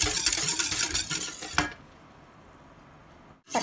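Orange sauce mixture being stirred in a pot over medium heat: a busy, close scraping swirl for about a second and a half, then a quieter low bubbling simmer, with a short burst of stirring at the very end.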